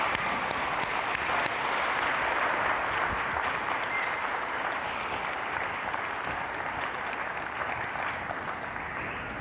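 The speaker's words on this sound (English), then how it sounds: "So let's give a round of applause," Steady applause from a middle school graduation audience fills the hall, dense and even throughout with no talk, easing off slightly near the end.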